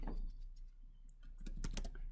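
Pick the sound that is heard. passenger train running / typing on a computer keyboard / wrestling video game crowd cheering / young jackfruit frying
typing on a computer keyboard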